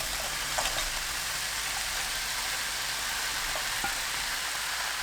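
Thin-sliced pork belly sizzles in a preheated pan, a steady loud broadband hiss with occasional small pops throughout, no voices.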